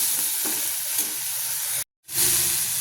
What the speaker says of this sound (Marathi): कांदा आपण थोडा परतून घेतलेला आहे